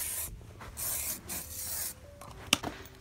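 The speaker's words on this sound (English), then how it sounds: "I got to spray some Crep Protect on the mags" Crep Protect aerosol sprayed onto Nike Mag sneakers gives soft, hissing bursts of spray, with a faint rubbing sound and a small click near the end, close up and quiet with no talking.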